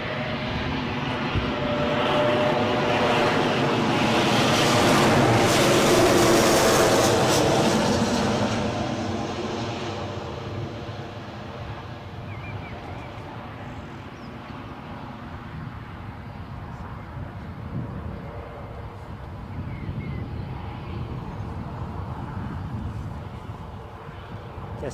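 An Embraer jet at Newcastle airport roars past, a loud broadband engine rush swelling over the first several seconds, then fading to a steadier, distant rumble as it rolls away.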